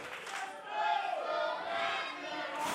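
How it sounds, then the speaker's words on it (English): Capacity crowd in an arena roaring and cheering during a fight, a dense sustained wash of voices that swells and stays loud throughout. "As you hear this capacity crowd here tonight come to life in support of Mike Matthews"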